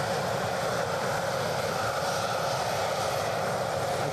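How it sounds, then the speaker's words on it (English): A United Airlines airliner departs Edinburgh Airport, an unbroken, fairly loud engine roar that holds steady without rise or fall for the whole stretch. "Our United departure."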